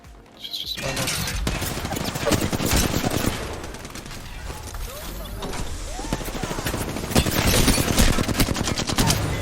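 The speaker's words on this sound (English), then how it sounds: "we heard some gunfire on the other side of Countdown" Rapid bursts of Apex Legends gunfire crackle continuously, mixing single shots and automatic fire at moderate distance over a dense, busy background.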